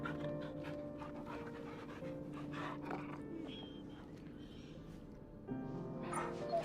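Dog panting softly in the video game Final Fantasy XVI, steady breathy huffs over a low game music bed, with a brief louder swell near the end.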